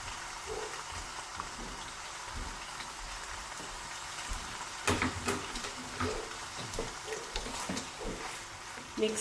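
Pasta mixed with sprinkled parmesan cheese in a pan, a soft continuous sizzle with scattered scraping and stirring clatter that grows busier partway through, close and moderately quiet.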